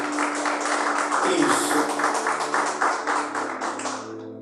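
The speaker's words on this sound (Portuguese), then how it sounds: "Palmas para o Senhor Jesus" A church congregation claps together for Jesus during a sermon, a dense run of steady rhythmic handclaps close by with a sustained tone underneath, no talking.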